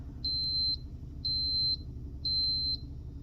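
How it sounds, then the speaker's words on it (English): Aroma Professional ARC-1230R rice cooker sounding its done signal: three evenly spaced, clear high-pitched electronic beeps, each about half a second long, over a low background hum. "say you didn't hear that beep"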